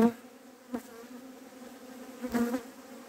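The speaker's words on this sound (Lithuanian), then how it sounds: "Bičių ganykla, o aš bičių piemenukas dabar." Honey bees buzz on a pasture in a steady, close, droning hum, with a few louder passes as single bees fly near the microphone, and no talk.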